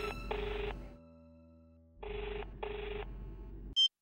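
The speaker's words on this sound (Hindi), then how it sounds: "अब ये फोन क्यों नहीं उठा रहे?" A telephone rings unanswered indoors in a television drama scene: three loud, evenly spaced bursts of ringing separated by pauses, ending with a short electronic beep.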